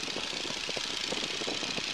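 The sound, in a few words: Stearman biplane engine power increasing for takeoff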